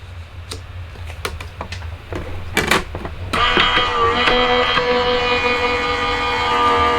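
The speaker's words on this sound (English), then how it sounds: "I'm going to run this through my die cut machine" A die cut machine running a stamped autumn-leaves card through: after a few scattered clicks and handling taps, a steady mechanical whirring hum starts and keeps going, close and fairly loud, with no talking.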